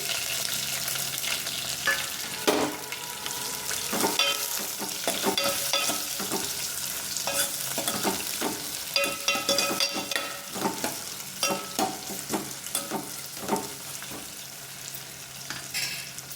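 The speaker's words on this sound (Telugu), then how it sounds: "ముందుగా కట్ చేసి పెట్టుకున్న ఉల్లిపాయ పచ్చిమిర్చి వేసుకొని ఫ్రై చేసుకోవాలి" Chopped onion and green chili fry in a pan with a steady sizzle, broken by repeated scraping stirs from a spatula, close and moderately loud, without speech.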